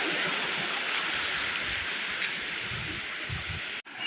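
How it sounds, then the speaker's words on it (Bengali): A small waterfall and stream flow beside a forest trail, making a steady broadband rush of water that holds constant throughout with faint rustling. "ঝর্ণার আওয়াজ শুনতেছেন, জিরির আওয়াজ, ছোট্ট একটা ঝর্ণার মতোই আওয়াজটা"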